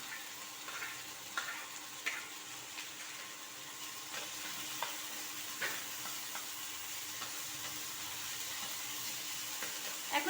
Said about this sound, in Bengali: এখন সবজিটাকে আমি একটু ভালোভাবে ফ্রাই করে নেব, যাতে সবজির কাঁচা গন্ধগুলি দূর হয়ে যায়।